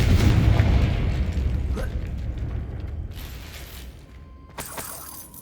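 A Confringo fire spell bursts in the Hogwarts Legacy video game as a loud, rumbling blast that fades away slowly, followed by a later crackling, rattling burst of debris.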